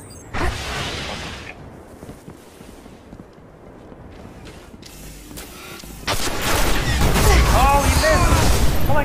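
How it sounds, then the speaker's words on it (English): Booming video game explosions and crackling blasts. The noise grows louder and denser toward the end, with brief chirps and mechanical clatter mixed in. "It has like an explosion."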